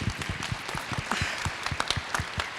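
Audience at a luncheon fireside chat applauding to welcome a guest, a steady run of distinct hand claps from a moderate-sized crowd at close range, sustained throughout.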